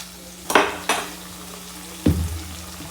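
Curry leaves sautéed in a pan for upma, with a few sharp clatters of a spoon or spatula against the pan over a low steady hiss; no speech.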